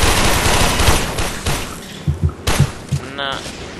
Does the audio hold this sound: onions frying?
no